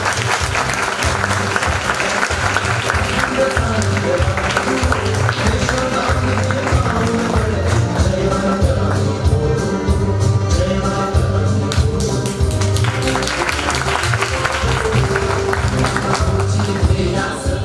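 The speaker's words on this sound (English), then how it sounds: "Big round of applause for them." Big sustained applause from a school audience at an annual function award presentation, dense and loud for the whole stretch, with music and faint voices under it.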